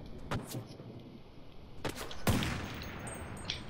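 Gunfire in the online shooter game CRSED while firing at an enemy: a few sharp shots, a short burst around the middle, over a steady game-ambience hiss.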